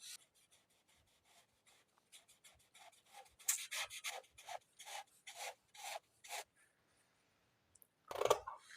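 Scissors cutting corset fabric pieces, a run of crisp, rhythmic snipping and rasping strokes, close and fairly quiet, pausing briefly before one louder final cut.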